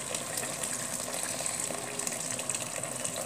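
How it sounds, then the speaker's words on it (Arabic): Boiling water pours steadily over chicken in a pot with parsley, a continuous close gushing splash running without pause and no talk. "غادي نضيفوا دابا الماء يكون مغلي مزيان حتى نغطيو الدجاج ديالنا"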